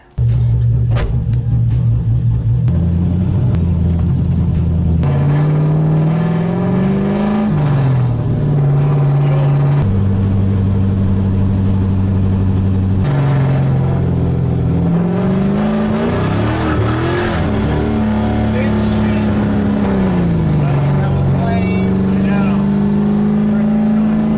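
A Mazda Miata drives along with a loud, close engine drone that rises and falls through gear changes and revs, continuous throughout.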